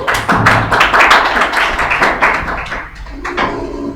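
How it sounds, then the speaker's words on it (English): A small group in a leadership training session claps for a participant, a loud, close patter of hands in uneven bursts that thins out toward the end. "Give her a hand of applause, please."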